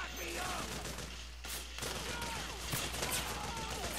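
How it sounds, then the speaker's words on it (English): Rapid bursts of tranquilizer gunfire in Metal Gear Solid 4, dense and continuous across the whole stretch with a brief dip midway, mixed into a busy game soundscape. "I'm seriously putting bullets in the fucking tranks into that guy"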